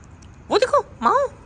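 A person voices two drawn-out meows in imitation of a cat, close and clear, one rising and falling cry followed by a shorter second one after a brief pause.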